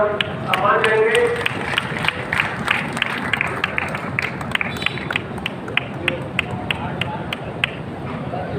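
A crowd at the closing of the Gogamedi fair applauds the disaster and security team, a steady wash of clapping with sharp individual claps standing out, mixed with crowd murmur and talk.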